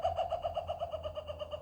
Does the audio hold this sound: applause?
no